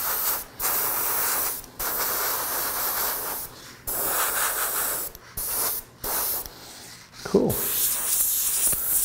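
Spray gun applying black paint in repeated bursts of broad, steady hiss, each a second or two long, separated by short pauses, close and fairly loud, with a brief low thump near the end.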